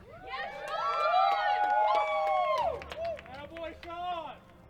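Crowd cheering and shouting at a medieval armored combat tournament, with loud, sustained voices and whoops rising and falling for several seconds before thinning out.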